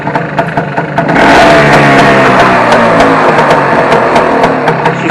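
A Vespa Stella scooter with an Aceto exhaust is kick-started: a few clattering kicks, then the engine catches and runs loud and close with a rapid, rhythmic putter and light revving.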